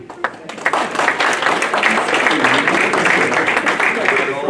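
Audience applause at a comedy show, starting with a few scattered claps that quickly swell into a loud, dense round of clapping from a room full of people.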